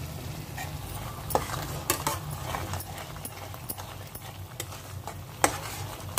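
Chili powder and masala fry in a pan for a restaurant-style mushroom curry, a steady close sizzle with occasional scraping stirs and clinks of the spoon against the pan.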